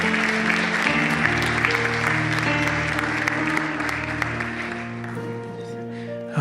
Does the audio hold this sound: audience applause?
yes